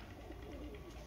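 A pigeon coos softly and briefly at close range, low murmuring call over a faint background hum.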